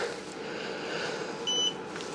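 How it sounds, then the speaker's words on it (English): A Heatbit Trio bitcoin-mining space heater gives a single short, clear electronic beep as its mode button is held, standing out over a steady fan hum. "If I push and hold the mode button till it beeps"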